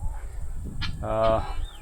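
Brahma chickens in a coop give a short harsh squawk followed by a drawn-out honking cluck, close and fairly loud over a low background rumble.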